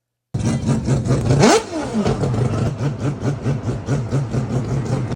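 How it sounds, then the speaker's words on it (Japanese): A Mazda 787 race car engine revs hard at a car event at Laguna Seca, then a sharp pitch drop as it passes close by, followed by a fast, rhythmic rumbling idle-like pulsing until it cuts off. "これ世界一の音じゃないかって呼ばれてるのは、マツダの787でしたよね。"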